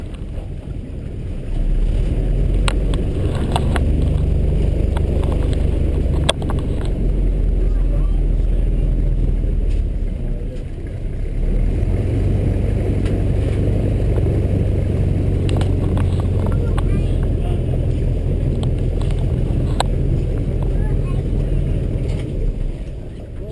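A loud airboat engine roars steadily and close on an Everglades wetlands ride, rising and easing slightly, with wind buffeting throughout and a voice faintly heard over the drone.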